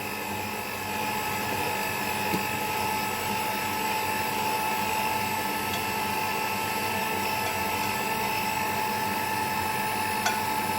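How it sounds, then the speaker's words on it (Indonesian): An electric mixer beats eggs and dough for cromboloni, whirring at a constant high pitch without pause, close and loud throughout. "Selanjutnya kita akan mixer ya biar tercampur rata."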